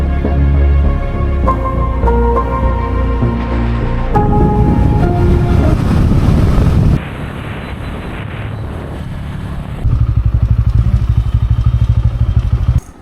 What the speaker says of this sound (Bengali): বাইকে চাপবো।